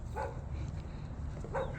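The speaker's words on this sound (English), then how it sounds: "there's a dog barking" A dog barks outdoors while someone walks home, two short barks, faint and distant, separated by a pause over steady background noise.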